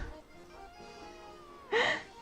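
A cat meows once, loud and close, near the end, after a stretch of quiet indoor room tone.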